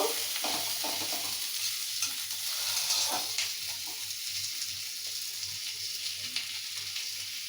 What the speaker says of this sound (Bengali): এটা হালকা ব্রাউন করে আমি একটু ভেজে নেব